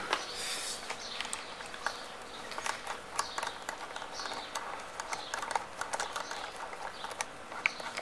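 Rapid, faint mechanical clicking from a hand guard bolt being tightened on a Suzuki V-Strom motorcycle, steady and close with no voices.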